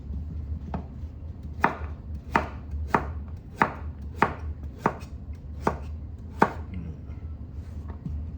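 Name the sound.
chopping vegetables with a knife for Ital stew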